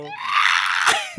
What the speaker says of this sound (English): Take 2 on the scream.